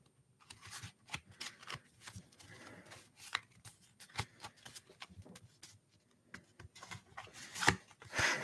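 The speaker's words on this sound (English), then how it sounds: "Man, I love shuffling cards." Playing cards being shuffled in an ASMR reading setting: crisp, close riffle bursts and snaps come in irregular clusters over quiet gaps, with a few sharper clacks near the end.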